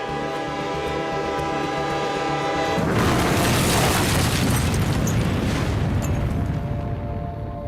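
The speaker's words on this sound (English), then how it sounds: "there was a massive train explosion in northern North Korea" A sustained horn-like tone gives way to a huge, roaring train explosion whose deep rumble stays loud and dense for several seconds.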